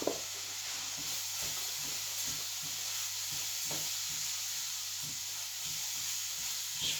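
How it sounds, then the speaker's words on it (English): Bordeaux rice grains fry in a pan with softened, translucent onions, giving a faint, steady sizzle and hiss with light scraping stirs, heard alone without talk. "Just frying that off nicely."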